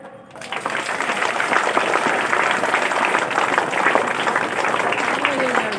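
Dense applause rises quickly and holds steady at an Independence Day flag-hoisting ceremony at a school, many hands clapping together, loud and close, with a faint voice briefly audible toward the end.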